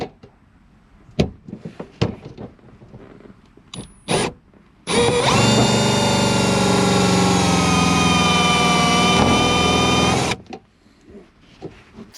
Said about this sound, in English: I am gonna give it a shot here and just see how well these self-tappers do